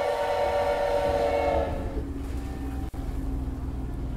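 A loud, sustained train whistle blasts in the Hell Train video game over rumbling rail noise, then cuts out and leaves the low rolling train sound.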